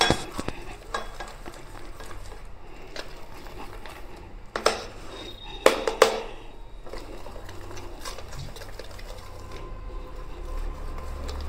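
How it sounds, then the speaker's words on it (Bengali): A spoon stirs and mashes dahi vada batter seasoned with cumin in a bowl, giving soft scraping and knocking sounds with a few louder clinks scattered through. "চামচ দিয়ে ভালো করে মাখাচ্ছি"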